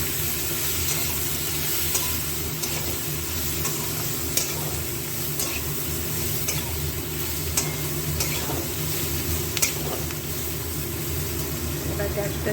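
Turmeric and Kashmiri chilli powder fry with eggplant in hot oil, a continuous close sizzle and hiss with faint stirring scrapes, while a voice talks over it.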